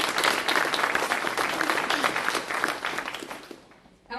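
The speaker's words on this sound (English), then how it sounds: "that in itself is an accomplishment and deserves a round of applause" Audience applause at a mayor's State of the City address, a full burst of clapping from a hall crowd that holds steady then fades out over a few seconds before a voice resumes.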